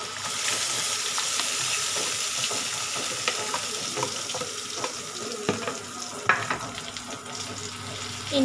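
Sliced onion sizzling in a pan of hot oil with garlic and torn dried red chilli on an induction cooktop, a steady close frying hiss with occasional stirring clinks, no voices.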